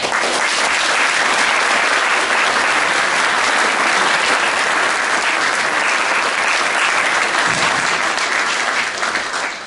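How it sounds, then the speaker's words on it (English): A large audience gives a sustained round of applause at an alumni honors event, dense and steady clapping filling the room for nearly ten seconds before tapering slightly at the end. "I think we need to give them a big round of applause"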